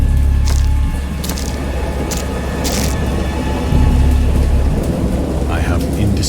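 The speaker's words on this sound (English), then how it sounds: "I heard pearls of thunder and other tones which nature utters only in her wildest moods" Steady heavy rain pours through a wild thunderstorm in the Dagon game, with several sharp cracks of thunder and a deep constant rumble underneath, loud and close throughout.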